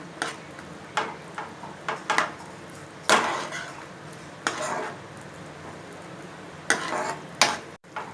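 Thick butterscotch mixture with cashews being stirred in a pan, with close spatula scrapes and knocks against the metal at an irregular pace over a faint sizzle.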